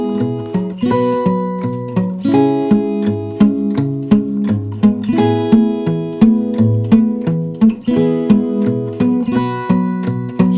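Acoustic fingerstyle guitar chords plucked with a string grab and slight roll across index, middle and ring fingers, close and bright, with steady bass notes under repeated rolled strums.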